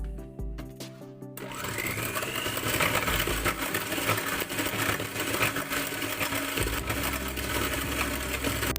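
Electric mixer beating apple cake batter with cinnamon, a steady buzzing whir that starts after a second of quiet clatter and runs evenly nearby for several seconds, with no one speaking.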